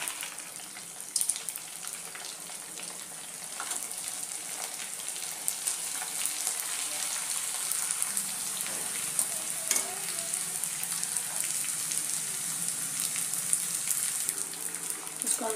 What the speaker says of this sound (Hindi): अब इसको हम तेल में तल देते हैं।